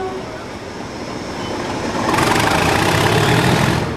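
A Class 37 diesel locomotive engine rumbles steadily, then swells into a louder, harder-working roar partway through, heard on a heritage railway.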